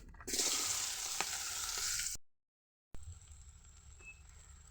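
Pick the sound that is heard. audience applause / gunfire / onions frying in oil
onions frying in oil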